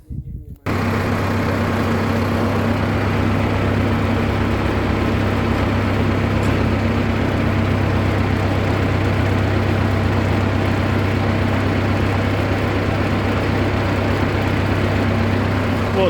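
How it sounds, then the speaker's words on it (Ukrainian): A tractor engine starts up and then idles steadily, a loud, continuous low rumble with a constant hum that runs on alone without talk. "Зараз я заведу трактора і побачите, як воно працює."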